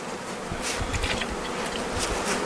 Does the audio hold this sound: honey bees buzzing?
yes